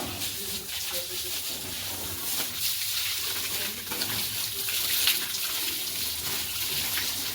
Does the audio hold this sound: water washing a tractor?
yes